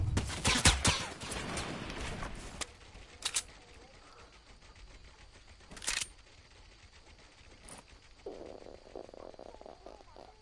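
AR rifle fire in a Fortnite match, a sharp burst of shots at the start followed by scattered single cracks, a few loud spaced reports over a quieter game background.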